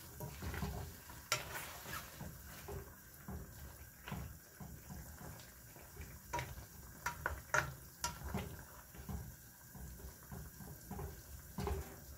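Meat browning in a pan for arroz a la chorrera, with faint continuous frying and sizzle under repeated scraping stirs and light clinks, heard close and without talk.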